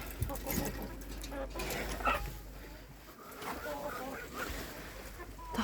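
Cochin chickens and other poultry clucking and calling in a farmyard on a warm autumn day, a steady outdoor mix of bird voices with a person talking over them.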